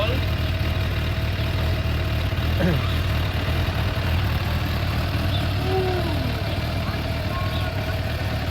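A Suzuki Bandit motorcycle engine idles steadily after being restarted following four months unused, a continuous low rumble running throughout with brief voices nearby.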